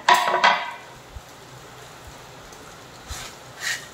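A few clinking scrapes of a spoon mixing bhel with chopped chillies in a bowl, loudest at the start, then sparse soft taps against a quiet room background.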